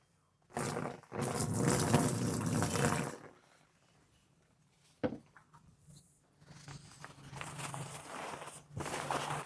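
Water is poured onto a waterproof bed sheet at a wholesale bed sheet market, a steady splashing rush lasting a few seconds, followed by quieter handling and a softer trickle later.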